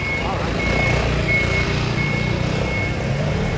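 A truck's reversing alarm beeps steadily at a regular pitch over road and engine noise, with a voice speaking faintly underneath.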